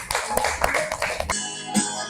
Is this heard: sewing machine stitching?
no